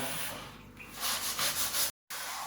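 A cast iron camp oven is scrubbed clean, with close, rough scouring strokes in a quick uneven rhythm that stop briefly near the end before resuming, no talk.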